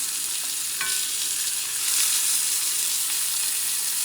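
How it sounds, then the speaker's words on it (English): Vegetables and meat sauté in a pan with oil or butter, giving a continuous bright sizzle and hiss, with one brief clink of stirring near the start. "You're going to saute these veggies, okay? And add the meat that was here."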